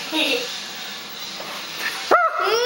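A pet dog gives a short whimpering yip and bark near the end, after a stretch of faint indoor background with brief voices, the dog sound loud and close.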